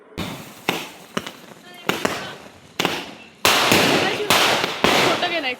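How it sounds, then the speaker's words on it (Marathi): Firecrackers going off during celebrations after a Tulsi wedding at a home in Konkan, a rapid series of sharp loud bangs and crackling bursts, some overlapping, with voices around them. "झाल्यावरती आम्ही फटाके लावले"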